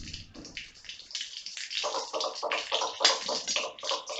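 Dried red chillies and a bay leaf frying in hot oil, a busy sputtering sizzle with rapid crackles building and continuing steadily at close range.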